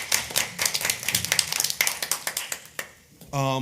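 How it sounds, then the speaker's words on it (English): A small group at a council meeting gives a short round of applause, with quick, uneven hand claps that fade out before speech starts at the end. "I do think they deserve a round of applause"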